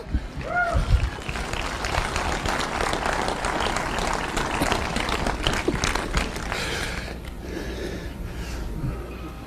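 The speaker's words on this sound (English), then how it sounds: "Come on, get over there, a round of applause." An audience at a motivational speech breaks into applause, a thick patter of many hands clapping at a steady level, with brief shouts and voices mixed in near the start.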